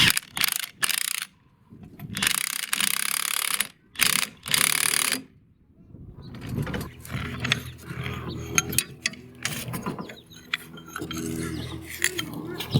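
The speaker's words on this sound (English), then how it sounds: "here we are compressing our rear shocks." A spring compressor tool works on the rear shocks of a 2020 Can-Am Maverick Sport. Bursts of mechanical ratcheting and clicking come first, then quieter clinks and metallic handling noises at close range.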